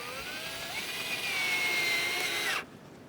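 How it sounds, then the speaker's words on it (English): A power tool, likely a drill, runs steadily with a high whine to fasten a hose clamp onto a wooden pallet for a hanging garden, then cuts off abruptly near the end. "now we will attach the hose clamp to the pallet"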